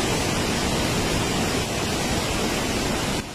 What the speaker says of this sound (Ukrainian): А ось такий вигляд нині має водоспаду Яремче